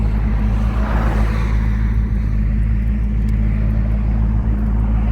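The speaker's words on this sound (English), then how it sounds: "Man, she's got a good idle." A 1964½ Ford Mustang engine idles nearby with a steady, deep, even rumble that stays constant and loud throughout, with no voices over it.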